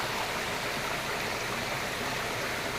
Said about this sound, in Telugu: చూస్తున్నారు కదా ఈ వాగు ఎంత చక్కగా ఉందో.